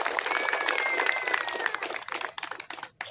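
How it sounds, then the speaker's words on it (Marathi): Crowd applause at a public ceremony in Vijaydurg, Sindhudurg: dense, loud clapping for about two seconds, then thinning to scattered claps before fading. "जोरदार टाळ्या वाजवायला आपल्याला हरकत नाही"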